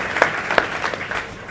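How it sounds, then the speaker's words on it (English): Applause from an audience at a book launch in a bookshop, a dense patter of clapping with a few sharper claps standing out, moderately loud and steady across the moment. "which we need to actually applaud"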